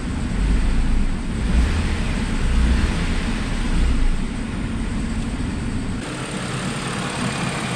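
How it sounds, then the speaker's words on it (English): A cold Audi engine idles smoothly and evenly, a steady close rumble with a slight swell and dip early on before settling into a constant drone, no voices present. "Listen to this, no vibration at all."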